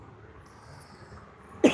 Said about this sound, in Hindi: खांसी मुझे बहुत आ रहा है, इतना ज़्यादा खांसी आ रहा है ना